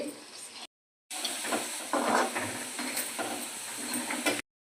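Chicken pieces fry in a pan for chicken pickle, giving a steady hiss and sizzle at moderate loudness, broken by a short silent gap near the start.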